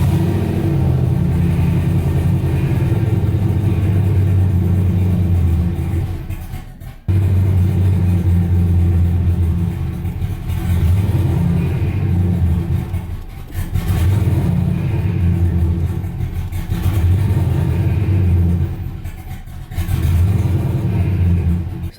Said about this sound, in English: when the engine is spinning really low, like 400 or 500 RPM